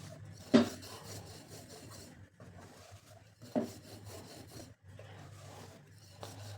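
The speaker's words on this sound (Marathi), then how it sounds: "अशी कडेकडेने लाटत घ्यायची पोळी" Rolling pin pressing and rubbing puran poli flatbread dough along its edges on a board, soft quiet scraping strokes with a couple of sharper knocks, close and faint with short pauses between passes.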